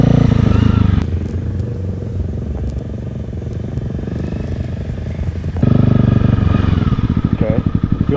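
A Honda CBR250 motorcycle is ridden, its engine a loud, close, continuous drone with rising and falling revs and a change in pitch partway through, under wind rumble.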